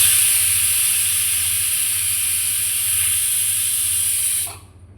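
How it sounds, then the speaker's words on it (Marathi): A pressure cooker hisses loudly as steam escapes after its whistles, a steady close jet of rushing noise that cuts off abruptly near the end. "पण शिट्टीची वाफ निघेपर्यंत थोडा थांबावं लागेल"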